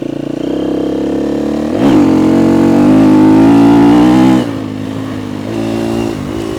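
A KTM 250 EXC-F dual sport motorcycle engine runs loud and close, rising into a stronger rev for a couple of seconds before easing back to a steady idle-like drone.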